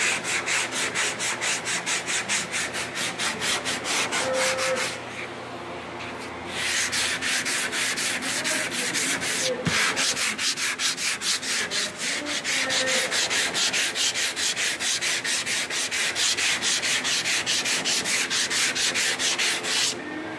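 Hand sanding block with 80 grit paper rubbing back and forth over car body filler on a dent, a close, rhythmic scratchy stroke repeated steadily for about twenty seconds with one brief pause.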